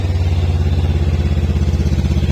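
Honda NX 500 motorcycle engine running at a steady idle, a deep bassy exhaust rumble with an even pulsing throb, close and loud throughout with no talking.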